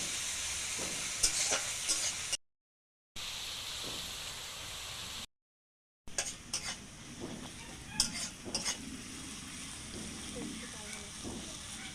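Onion paste sautéing in hot oil in a pan while being stirred for an egg curry, a steady sizzle with scraping and clinking stirring strokes, broken by two short silent gaps.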